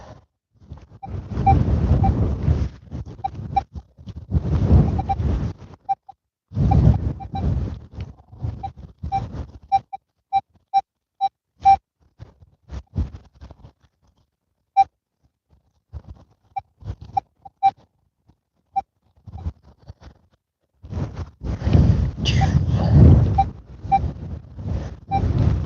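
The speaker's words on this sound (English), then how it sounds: "That wind's picking up again." Gusts of wind buffet an outdoor microphone in rumbling bursts that come and go, loudest at the start and end with quieter gaps between, plus faint scattered clicks.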